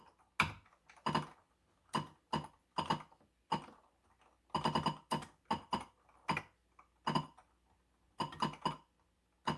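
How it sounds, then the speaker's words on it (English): Keys clack on an Atari 8-bit computer keyboard as a program is typed, in short irregular bursts of sharp presses separated by pauses, close and fairly quiet with no talking. "It's not too bad to type, so here we go."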